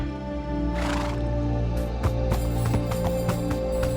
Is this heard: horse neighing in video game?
yes